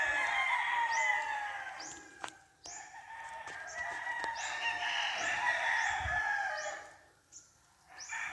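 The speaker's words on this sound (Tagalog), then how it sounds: "Alingasa ang manukan diri." Chickens and roosters in a chicken coop, several crows overlapping with clucking in a busy, continuous chorus that briefly dips quieter before rising again, with no talking.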